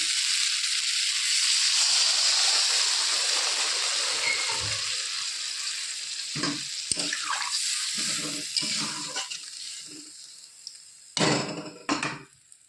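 Water poured into a pan of simmering egg, potato and cauliflower curry, a long steady rushing pour that fades out, followed by a few scattered knocks and clinks of utensils.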